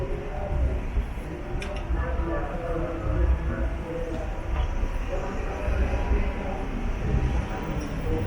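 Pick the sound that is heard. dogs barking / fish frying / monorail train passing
monorail train passing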